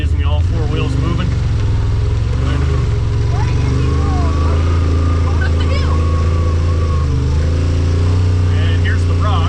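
A Yamaha RMAX 1000 side-by-side climbing over a trail rock in four-wheel differential lock, its engine giving a loud, steady, close drone throughout, with faint voices and scattered knocks above it.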